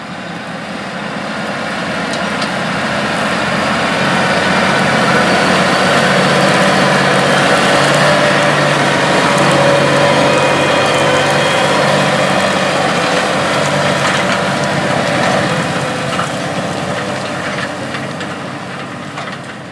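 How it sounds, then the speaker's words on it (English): A big John Deere 8345R tractor works a spring field before corn planting, its engine a steady, loud, broad drone that swells and eases over about twenty seconds, with no voices. "let's head out to the field and see this big tractor at work"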